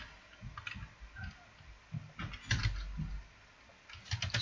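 Typing on a computer keyboard while setting up a Raspberry Pi OS theme, with close, irregular clusters of key clicks separated by short pauses and heavier keystrokes in between, such as pressing enter.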